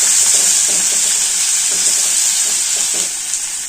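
Cumin, curry leaves, asafoetida and onions tempering in hot oil for an eggplant curry, a loud steady sizzle with faint stirring scrapes, close and continuous with no talk.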